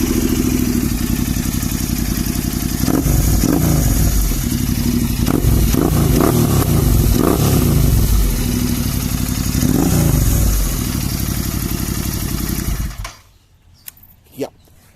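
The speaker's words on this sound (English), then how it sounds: "this exhaust makes a beautiful sound" A Royal Enfield Continental GT650 motorcycle engine with a loud aftermarket full-system exhaust rumbles and revs repeatedly up close, then cuts off, leaving a couple of faint clicks.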